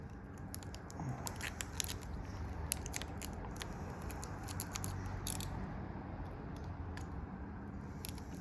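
Window tint film is trimmed on a new Volkswagen front quarter window, heard as faint, scattered crisp snips and crackles of the film over a low steady background, close but quiet, with no talking.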